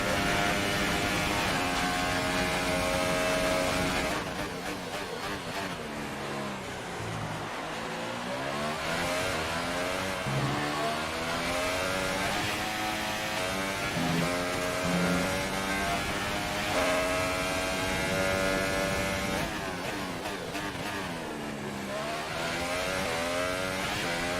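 In the F1 2018 racing video game, a Formula 1 car's engine screams through repeated rising and falling revs on the final lap. Gear shifts sweep the pitch up and down in a loud, continuous drone, and no one speaks.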